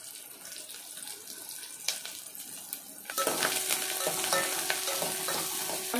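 Curry leaves and green chillies tossed into hot oil for an eggplant and tamarind-leaf curry, a quiet bubbling hiss that flares into a louder, steady crackling sizzle halfway through, with faint stirring.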